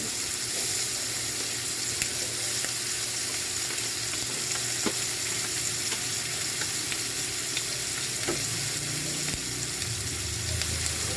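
String beans (sitaw) stirred into pork adobo with soy sauce in a hot pan, a loud continuous frying sizzle throughout with occasional clicks of a utensil against the pan.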